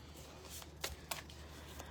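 Oracle cards shuffled by hand, a soft papery riffle with a few crisp flicks in quick succession, quiet and close in a calm room.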